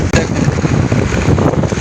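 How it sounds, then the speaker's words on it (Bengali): Strong wind buffeting the microphone on a bridge over the Karnaphuli river, a loud continuous roaring rush with gusty swells through the short stretch. "এখানে ভালোই কিন্তু বাতাস আছে"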